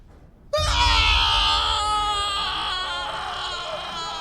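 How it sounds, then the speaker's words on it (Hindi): A loud, piercing scream erupts from inside a hospital operating theatre in an animated horror story, starting abruptly after a brief quiet moment and holding as a long, sustained wail that slowly fades. "एक जोरदार चीख ओटी के अंदर से आई"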